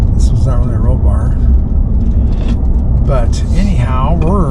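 Off-road truck driving along curvy roads, its steady engine and road noise loud and constant throughout, with someone talking over it.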